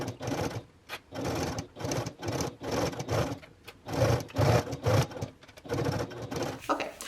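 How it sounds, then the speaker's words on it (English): A sewing machine top stitching along the bottom edge of bias tape on a travel bag, running in short rhythmic bursts of close, steady whirring broken by brief pauses. "we're going to top stitch along the bottom edge of the bias tape."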